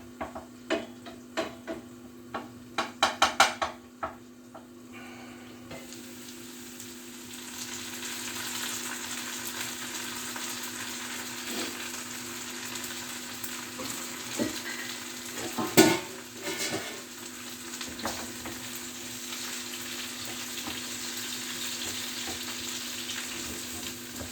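Lardons fry in a hot pan for a country omelette. A quick run of utensil clatter opens, then a steady close sizzle carries on with occasional scrapes and knocks.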